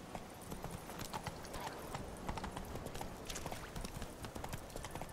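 Horse hooves clip-clop in a steady trotting rhythm in The Witcher 3: Wild Hunt on Xbox One, quiet but continuous throughout.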